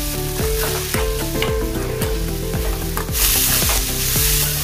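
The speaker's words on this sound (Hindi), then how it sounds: "मटर डालेंगे। उबाली हुई मटर है हरी वाली," Boiled green peas are added to a hot pan with onion and carrot in oil and stirred, giving a dense continuous sizzle with rhythmic scraping strokes and clattering, close and loud.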